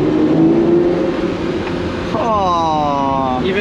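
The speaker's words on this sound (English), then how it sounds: "When you close the windows, you just hear the engine behind you." Car engine heard from inside the cabin with windows closed while driving through a Monaco tunnel, a steady low drone that climbs into a rising rev near the end, loud and close.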